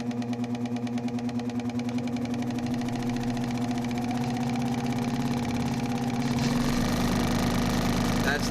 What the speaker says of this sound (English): I'm just going to cut a piece of cardboard just to show you as an example